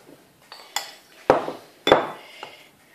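Batter for yogurt madeleines with raisins and lemon being folded in a bowl as flour goes in: a handful of sharp utensil clinks and knocks against the bowl, spaced irregularly, close and fairly clear with no talking.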